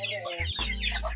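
Chickens and young chicks cluck inside a backyard coop, with short close-up calls and low rumbling tones over a steady background.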